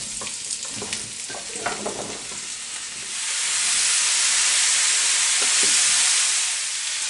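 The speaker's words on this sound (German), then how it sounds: "Das Gemüse wird nun in etwas Öl angebraten." Vegetables frying in a little oil in a pan for a veal cream roast, a steady close sizzle with stirring clatter early on that swells into a louder, even hiss for the second half.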